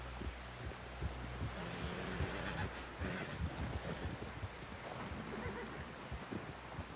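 A horse whinnies and its hooves clop in Red Dead Redemption 2, mixed with wind and water-like ambience; the horse sounds are fairly close and steady over a continuous noisy background.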